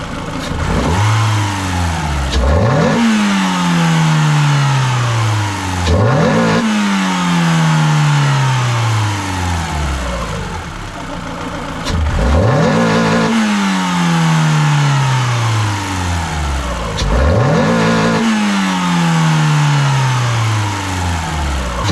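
Frankenstein F4R car engine revving loudly in four repeated throttle blips, each rising sharply then falling back toward a rough idle, close and alone.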